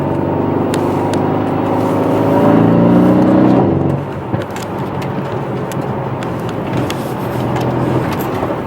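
A Mercedes C63 AMG V8 sedan drives along, its engine droning loudly and rising in pitch under acceleration before dropping back to a steady cruising rumble with road noise.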